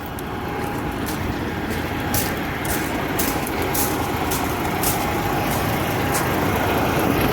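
A lorry driven by a trucker idles with its engine running, a dense and steady low rumble heard from close by, with faint intermittent clicks above it and no talking.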